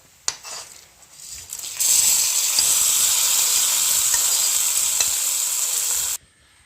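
Hot mustard tempering is poured into a jackfruit erissery curry, letting out a loud, sudden hiss that holds steady for about four seconds and then cuts off, with a few faint clinks before it.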